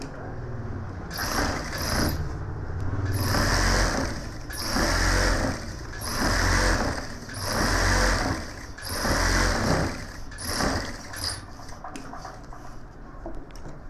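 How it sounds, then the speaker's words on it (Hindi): A sewing machine stitches a gents suit collar band in repeated bursts of a few seconds each, its rapid mechanical whir rising and stopping between pauses, close and steady. "अभी इस पे सिलाई करेंगे बैन के ऊपर से"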